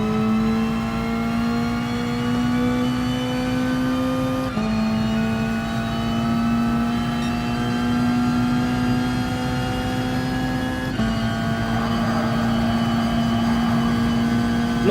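A race car engine held at full throttle on the Circuit de Sainte Croix in a racing game, a loud steady high drone that climbs in pitch through several gear changes, with no voices.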